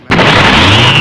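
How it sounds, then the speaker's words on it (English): A sudden loud blast erupts after a moment of silence, then a dense, roaring rumble sustains at full volume without any voices. "I heard an explosion"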